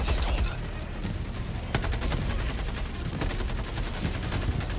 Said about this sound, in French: ça tire des canons laser aussi, ce truc